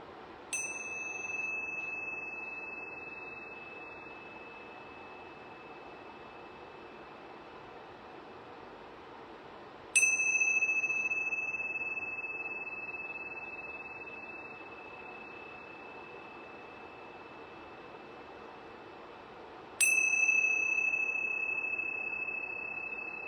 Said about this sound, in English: I'm going to ring these yoga bells 3 times.